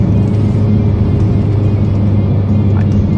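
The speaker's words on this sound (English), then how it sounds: "The sound and the power of the Mustang GT are awesome." A Ford Mustang GT engine drones steadily and loudly from close by, a constant low rumble with no pauses and no voices.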